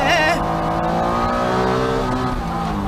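A Honda NSX Type S with a 3-liter engine and 5-speed gearbox drives at speed. A steady, close engine drone holds strong throughout, easing slightly after a brief opening burst.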